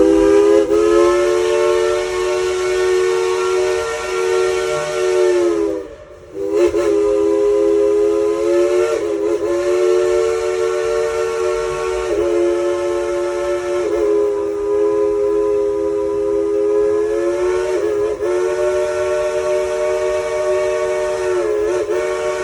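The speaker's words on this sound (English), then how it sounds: "would you folks like to hear Klondike Katie play you a tune on that bobbing locomotive whistle?" A loud, sustained steam locomotive whistle at a homestead festival sounds in long, chord-like blasts, briefly interrupted once and then continuing with small breaks, with no talk over it.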